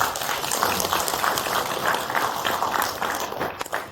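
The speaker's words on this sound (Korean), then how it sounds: "박수 한번 쳐주시죠." An audience at a Democratic Party policy forum on Muan Airport in South Jeolla claps together, a dense, steady patter that lasts throughout and thins near the end, with no speech over it.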